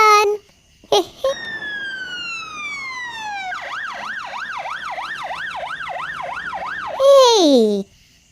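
A toy fire truck sounds its electronic siren, with rising chirps and long falling tones first, then a fast wavering wail and a final loud downward sweep, close and alone.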